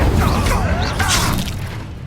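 An Incendio fire spell blast in the Hogwarts Legacy video game: a loud, close burst of fiery explosion with crackling and a rushing whoosh that fades over about two seconds.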